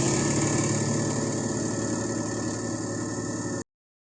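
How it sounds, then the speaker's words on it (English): A JFJ Easy Pro disc resurfacing machine runs with a steady, loud motor hum and whine that holds constant for several seconds, then cuts off abruptly into silence. "So we're going to turn the machine on now."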